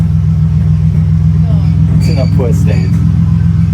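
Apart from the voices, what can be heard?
car being moved out of the way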